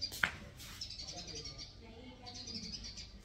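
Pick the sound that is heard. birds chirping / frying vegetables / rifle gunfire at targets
birds chirping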